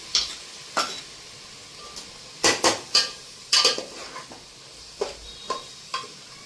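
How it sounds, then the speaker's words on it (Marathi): Chicken pulao masala with yogurt sautés in a pan, soft oily sizzling beneath sharp, intermittent clinks and scrapes of a spoon against the metal, some strikes clustered in quick pairs. "हे आहे ना तेल सुटेपर्यंत छान असं परतून घ्यायचं"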